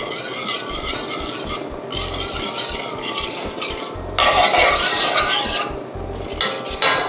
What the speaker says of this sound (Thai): คนให้ตัวถั่วแดงเนี่ย เละแล้วก็ละลายเข้ากับน้ำเอง